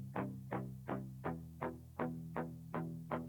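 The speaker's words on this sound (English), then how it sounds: "and it's now muted, and I've changed the tone of the guitar" A muted electric guitar with a filtered tone, single-tracked and not doubled, with highs, low mids and lows cut, plays nine evenly spaced plucked chords, each a short decaying stab.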